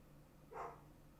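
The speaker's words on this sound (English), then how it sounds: "Oh my god, dogs." A dog gives a single short bark, faint and somewhat distant indoors, over a quiet hum.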